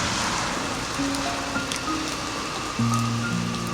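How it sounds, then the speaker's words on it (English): Steady rain streams against a train window at night while traveling through French wine country, a soft continuous hiss with faint low tones drifting through. "the rain continues its steady descent, tracing long silver lines down the glass"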